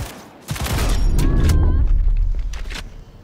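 Smart pistol gunfire in Cyberpunk 2077, a Skippy weapon firing a rapid fusillade of loud, close shots that rings out over about two seconds before tapering off, with guided-round whizzes threaded through the bursts.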